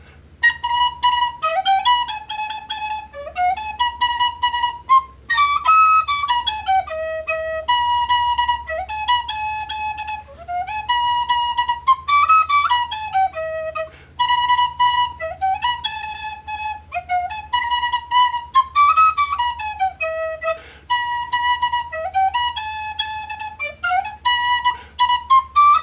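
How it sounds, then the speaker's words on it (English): A sea shanty played on a penny whistle, a bright, clear, lilting melody running unbroken for about twenty-six seconds with steady phrasing and no voices. "Finally learned to play it on the penny whistle in Ireland,"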